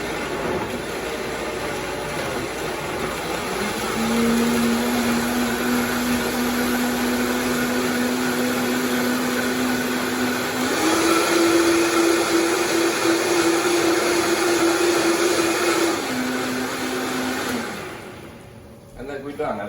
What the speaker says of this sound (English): On low setting, always good to start with your blender low so that nothing splatters.